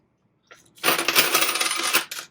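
A pile of loose coins spills out of a wallet in a close, bright jingling cascade lasting over a second, followed by a few final clinks as the last pieces settle.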